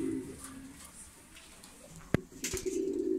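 Bombay Golla pigeons coo low and steadily in a breeding loft, with a sharp knock and some rustling partway through and faint background noise.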